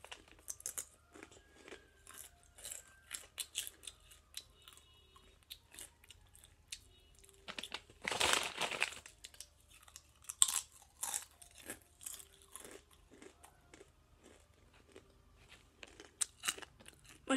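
Extreme spicy Doritos chips being bitten and chewed in an office, sharp close crunches scattered throughout with a loud burst of crunching midway, no talking.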